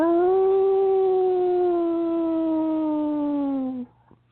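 A wolf howl in a forest under a full moon, one long sustained tonal cry with rich overtones that slowly falls in pitch and fades out, fairly clear and alone.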